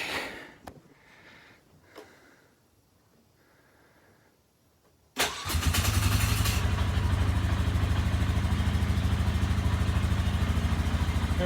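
A Polaris Sportsman 500 ATV engine, side panels removed, runs at a steady, loud, close idle for the second half after a quiet start, with a constant low throbbing rumble and no talking.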